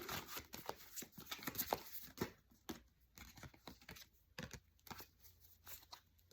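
Rapid bursts of crisp, papery riffling and flicking as a tarot deck is shuffled several times in quick succession, fairly close and fairly quiet.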